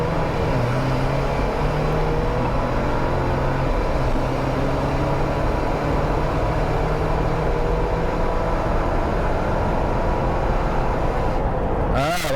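A Jeep accelerating 0 to 60 at wide open throttle with traction control off, heard from inside as a continuous loud engine roar and road rumble with rising engine pitch throughout.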